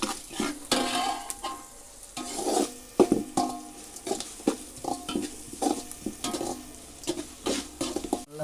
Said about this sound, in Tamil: நல்லா பொரிஞ்சிட்ருக்கு, வெங்காயம் நல்லா வதங்கிட்டுருக்கு